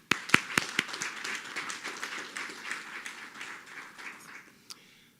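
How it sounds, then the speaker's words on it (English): Audience at a matric results event applauding learners, several sharp claps up front and then a steady patter of clapping that thins out toward the end, with no talk over it. "let's give our learners a round of applause"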